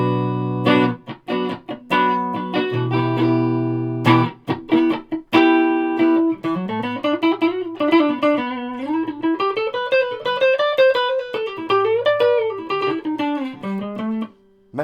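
Tokai Firebird electric guitar with mini humbucker pickups, played clean and loud: strummed chords at first, then a melodic single-note lead line that bends and slides, with no talking.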